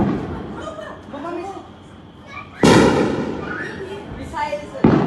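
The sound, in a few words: explosion blasts heard in the sky over Jalandhar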